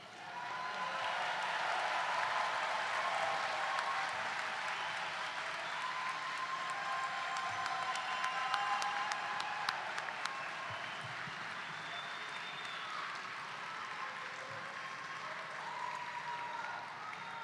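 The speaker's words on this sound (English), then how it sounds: "give them a round of applause" An audience at a medical school white coat ceremony gives a long round of applause for families and friends, a steady, far-off wash of many hands clapping in a large hall, with occasional cheers rising through it.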